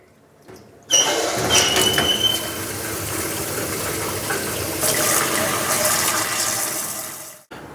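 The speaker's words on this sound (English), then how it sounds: "So after you ran the water and it's running clear and there's no air in it on both cold and the hot water" Tap water gushes steadily for about seven seconds to purge air from a household line during a water softener installation, starting abruptly and cutting off at the end, loud and close with no voices.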